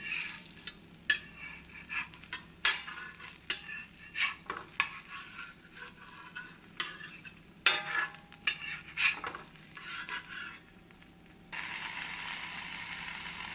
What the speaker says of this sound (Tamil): நாம் மெதுவாக திருப்பி போட வேண்டும்